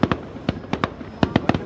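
Fireworks going off at a New Year's Eve celebration give a rapid series of sharp pops and cracks, about ten bursts in quick irregular clusters, fairly close and loud, with no voices.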